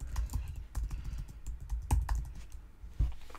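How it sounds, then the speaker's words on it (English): Fingers tapping out a password on a computer keyboard, a quick uneven run of soft close keystrokes with a few heavier presses, alone without speech. "I'm going to type the password."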